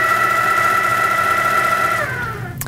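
An HQ Sweet Sixteen quilting machine stitches with a steady, loud motor hum that shifts pitch and eases off near the end.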